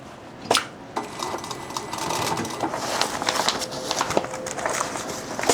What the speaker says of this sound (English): we're already stitching through quite a bit of material here